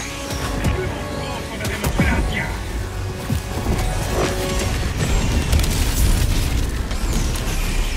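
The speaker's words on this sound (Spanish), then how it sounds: "Disparando a ataque orbital." An orbital strike explodes in Helldivers 2, producing heavy, rumbling booms and blasts that roll continuously over dense battlefield noise, loud and close.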